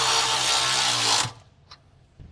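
A power tool with a swivel socket runs bolts down for about a second, a loud steady whir that stops abruptly, followed by a couple of faint clicks.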